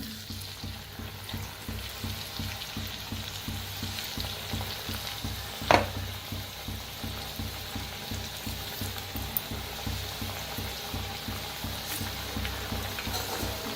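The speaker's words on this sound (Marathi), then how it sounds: "आता फिरवून घेऊया तेलात." Chakli frying in hot oil, a steady close bubbling sizzle that continues throughout with a faint rhythmic churn, plus one brief sharp clink near the middle, no voices.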